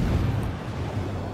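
Naval gunfire in a World of Warships battle, shells pouring onto a friendly cruiser: a steady low rumble of distant booms rolling together with no clear gaps, carrying at even loudness throughout the whole stretch.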